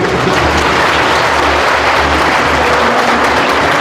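A crowd claps with four fingers continuously, a dense steady wash of applause filling the whole stretch, loud and close.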